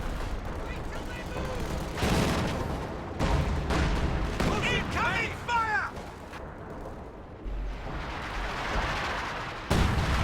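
Artillery fire in Company of Heroes 2 pounding an enemy headquarters, with repeated booming shots and crackling impacts over a busy battlefield din, while a commentator talks throughout.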